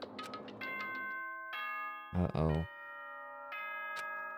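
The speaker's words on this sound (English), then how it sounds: "The dreaded bell." A school bell chime from the Danganronpa: Trigger Happy Havoc video game rings out in a sequence of clear tonal notes with ringing overtones, broken by a brief spoken exclamation partway through.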